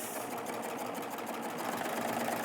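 A serger overlock machine stitches along fabric with a fast, continuous rattling hum, close and steady with no pauses.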